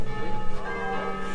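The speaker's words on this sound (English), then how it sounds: "The bells, the bells. I'm not going to complain about bells" Church bells ringing steadily in a dense, sustained wash of tones, loud and resonant with no voices, beside a car show in Gouzon, France.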